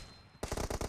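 A rapid burst of automatic gunfire in the mobile shooter Battlegrounds Mobile India, about five close, loud shots in quick succession after a brief quiet lead-in.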